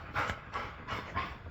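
A dog pants close by in four quick, rhythmic breathy bursts, fairly soft and alone.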